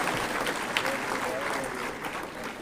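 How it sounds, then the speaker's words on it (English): At a CSIR Foundation Day ceremony, a hall audience gives sustained applause, a full, even rush of many hands clapping at moderate volume with faint voices mixed underneath. "a huge round of applause"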